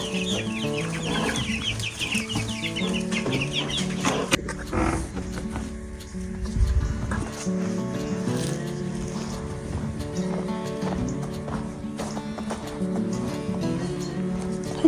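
Chickens cluck and chatter in a busy, continuous jumble, with scattered higher calls over low background noise.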